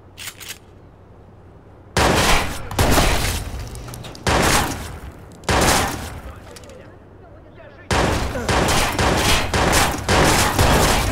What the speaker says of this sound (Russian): Настоящая гангстерская перестрелка, дробовики на дробовики.